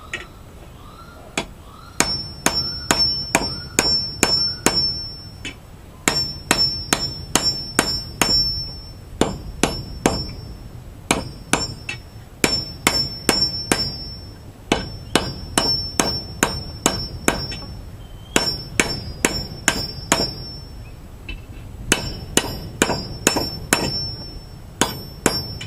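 Blacksmith hammering steel on an anvil at the forge while making a sword, sharp ringing strikes in quick rhythmic bursts with short pauses between series, loud and close, no talking.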